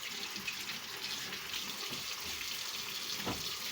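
Hands are washed under a running tap, with a steady stream of water splashing into a sink, close and continuous, and a brief rubbing splash near the end.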